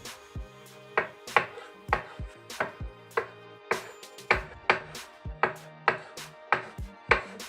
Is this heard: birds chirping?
no